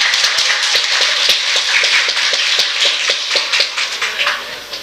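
Audience at a startup meetup claps for a speaker, a steady run of sharp rhythmic hand claps that is loud and close, continuing for several seconds before thinning out.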